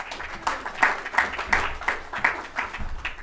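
An audience at a NESMA breakfast seminar in New South Wales applauds, a moderate burst of clapping with rhythmic individual claps standing out, close and continuous.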